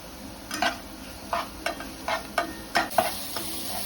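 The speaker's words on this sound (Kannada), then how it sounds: "ಒಂದು 2 to 3 ಆನಿಯನ್ಸ್ ಹಾಕೊಂಡು ನೀಟಾಗಿ ಫ್ರೈ ಮಾಡಬೇಕು. ಇವಾಗ ಒಂದು ಸ್ವಲ್ಪ ಕರಿಬೇವು ಹಾಕೊತಾ ಇದ್ದೀನಿ ಅದಕ್ಕೆ." Onions and curry leaves frying in a pan for a fish fry masala, a soft steady sizzle punctuated by about seven distinct stirring scrapes at an uneven rhythm, close and alone without talk.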